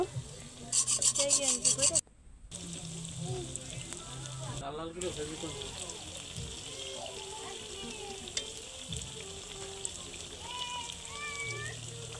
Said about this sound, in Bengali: এই দেখুন বাকিগুলো ভেজে নিচ্ছি একইভাবে।